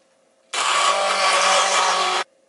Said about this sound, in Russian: Печеночную массу измельчаю блендером.